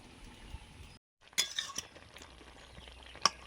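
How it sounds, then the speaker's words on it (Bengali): A lid clinks down onto a cooking pot holding a pumpkin, potato and sweet potato dish, a brief metallic clatter after a moment of quiet, followed by a sharp clink. "ঢাকা দিয়ে দিচ্ছি।"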